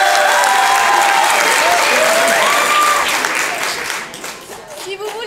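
Audience applause at an improv theatre show at a Paris festival, a loud dense clapping crowd with some voices mixed in, thinning out and fading toward the end.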